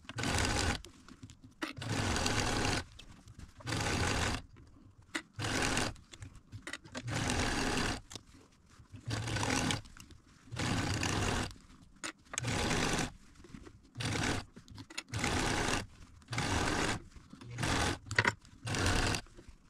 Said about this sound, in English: I'm going to go over to the machine and stitch that down.